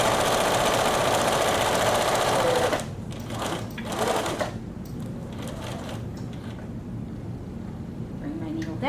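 A sewing machine running fast while stitching a pocket on an atikłuq, a loud continuous close-up whir that stops after about three seconds, followed by quieter handling sounds and some talking.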